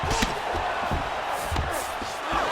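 Crowd noise from the UFC 5 fighting game on PS5 fills the scene with a dense, continuous roar of cheering and a few sharp thuds, with voices under it.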